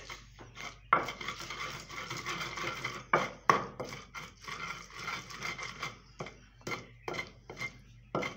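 A spoon scraping and clinking in a bowl while green chilli, mint and coriander paste is stirred together with a spoonful of salt, in irregular close strokes with sharp taps against the dish, no talking.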